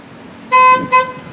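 A vehicle's standard horn gives two loud toots, a longer blast followed by a shorter one, close by and with nothing else heard.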